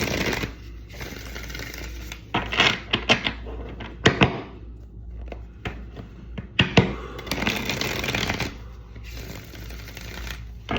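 A deck of tarot cards is shuffled by hand nearby, with bursts of riffling and slapping card sounds separated by brief pauses, moderately loud with no talking.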